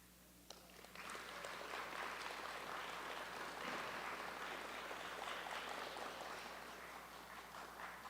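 Sustained audience applause from a crowd at the Miss Navajo Technical University pageant, honoring the outgoing titleholder, rising after a brief quiet start and holding steady, dense and even throughout.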